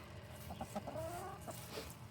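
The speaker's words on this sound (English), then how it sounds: "I got a sick chicken." Soft, close clucking of a backyard chicken kept on a small city lot, a few short murmured clucks in quick succession over quiet background noise.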